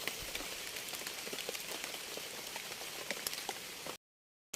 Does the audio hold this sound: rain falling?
yes